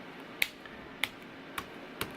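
Sticky keys on a 2018 MacBook Pro 15-inch A1707 keyboard being pressed: four sharp, close clicks spaced about half a second apart in a quiet room.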